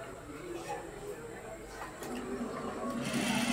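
An overlock sewing machine stitching fabric, running in a steady continuous mechanical whir throughout, fairly quiet, with a voice talking at moments.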